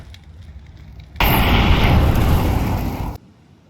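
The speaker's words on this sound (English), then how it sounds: "Incendiary." An incendiary grenade in Counter-Strike 2 bursts into a loud, roaring whoosh of fire that holds steady for about two seconds and then abruptly stops, with quieter game ambience before and after.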